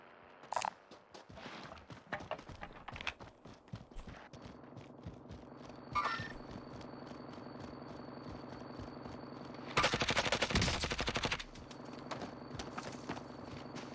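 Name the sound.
gunfire in Warzone video game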